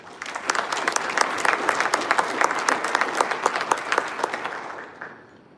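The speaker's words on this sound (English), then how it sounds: "If we could give them a round of applause" A school speech day audience applauds, broadband clapping from many hands building quickly, holding steady, then thinning out toward the end, with no speech over it.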